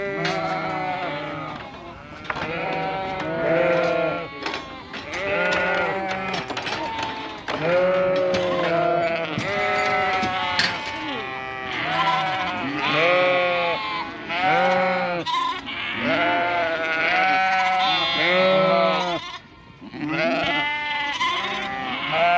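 Lambs and sheep bleat nonstop at weaning time on a sheep farm, many overlapping calls near and far forming a loud, dense chorus with only brief gaps.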